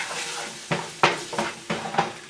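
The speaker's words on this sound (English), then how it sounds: "let's go ahead and add our curry paste. Stir that in there as well" Curry paste is stirred into a sizzling pan while cooking coconut curry beef ribs. A utensil knocks and scrapes against the pan in five or six distinct strokes over a soft background sizzle.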